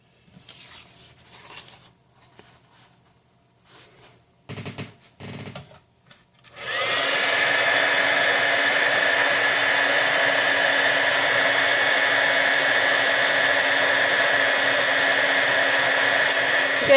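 A heat embossing tool blows with a loud, steady whoosh while melting embossing powder on a stamped card, starting after several seconds of faint handling and rustling sounds.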